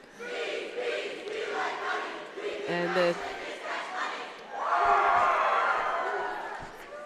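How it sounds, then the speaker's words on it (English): A swim team cheers together at the end of a swim meet against Hopkinton, a loud crowd chant of many voices rising in bursts and swelling toward the end, with a bit of talk mixed in. "And there's Ashland's cheer."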